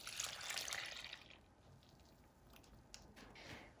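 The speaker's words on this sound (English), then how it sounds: "I make a nice well and I pour this in the center." Yeast liquid poured into a well of flour for focaccia dough gives a soft, close splashing trickle at first, then fades to faint wet drips and squishes.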